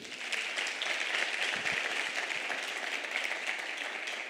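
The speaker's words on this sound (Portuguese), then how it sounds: "A gente pode aplaudir o nome do Senhor, né?" A church congregation applauds in praise, a steady wash of moderate clapping from a fairly distant crowd filling the whole stretch without a break.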